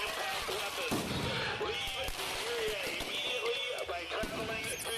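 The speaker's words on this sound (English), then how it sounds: "granted, they're fireworks. It's not actual bombs" Fireworks exploding during a riot in a chaotic street, a steady run of sharp cracks and bangs over crowd noise and shouting, with voices talking throughout.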